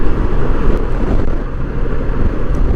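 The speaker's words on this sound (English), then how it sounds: "Ungodly amounts of wind." Strong wind buffets the microphone on a Honda Goldwing trike in a constant heavy roar, with gusts surging and easing throughout, loud and close.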